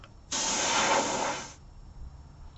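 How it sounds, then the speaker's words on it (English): Spray paint hisses from an aerosol can onto a stencil over a turned beech bowl, one steady close burst of about a second and a quarter that stops abruptly, with quiet room tone after. "I'll just try to be a bit more accurate with spraying it only where the stencil actually is."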